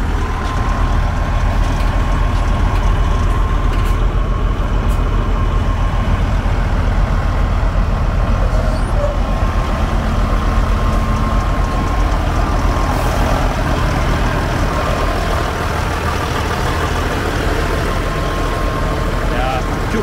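A custom show truck's engine idles in a steady, deep diesel rumble close by, continuous for the whole stretch, with people talking faintly over it and a thin high tone running through.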